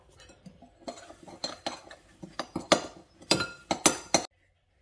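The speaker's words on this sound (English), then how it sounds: "do you want to start mixing all that up?" A spoon clinks and scrapes against a bowl in a quick run of sharp metallic taps while dry ingredients for chocolate Weetbix sherry balls are mixed, loud and close with no talking.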